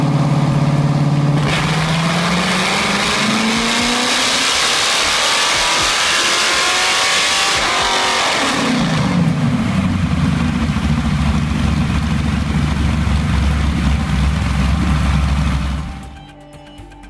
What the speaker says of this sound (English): Beneath its skin growls a heavily tuned Scania V8.